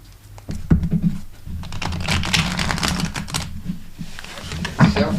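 A deck of tarot cards is shuffled close up, giving rapid crisp riffling clicks and flutters in a few bursts, with faint low background hum underneath.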